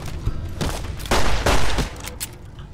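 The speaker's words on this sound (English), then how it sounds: "He has a crude machine gun." Crude machine gun in Fallout New Vegas firing several close, loud bursts of gunfire, with a short early shot and heavier bursts in the middle before it fades.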